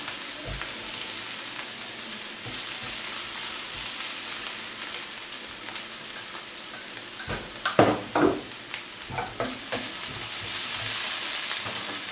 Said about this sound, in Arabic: بعد ما شحرنا البصله والفلفله فانا غادي نحيد نصف الكميه نخليها باش نديرها كطبقه من الفوق البطاطا، وغادي نخلي نصف الكميه في المقله